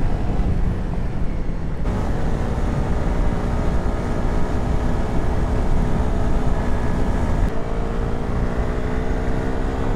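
A Honda CRF300L motorcycle riding the Trans Euro Trail in Greece, its engine a loud, steady droning hum heard up close throughout, with the pitch shifting slightly partway through.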